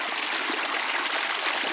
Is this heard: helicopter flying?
no